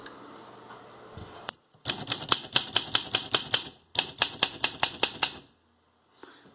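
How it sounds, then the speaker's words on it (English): Manual keystrokes on an Olympia Deluxe typewriter, typed one key at a time: a close, loud run of sharp evenly spaced clacks in two bursts separated by brief pauses, with no talking. "Let's start typing."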